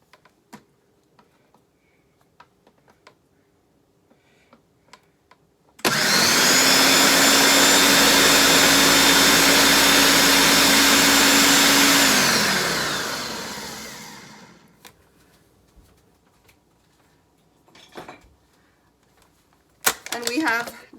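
An electric mixer whirs loud and steady while blending crêpe batter for traditional French crêpes, running about six seconds before winding down, with quiet taps and clatter before and after.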